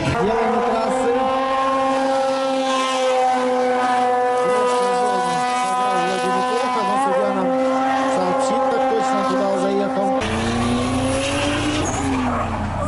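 Drift car on a race track, engine revving loudly at high pitch with shifting tones and tire squeal, the engine note changing abruptly near the end.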